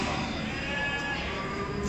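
Afyon merino sheep bleat at the Dörtyol small-livestock market, a nasal, wavering cry that runs through the whole moment. Crowd noise fills the background, with faint voices mixed in.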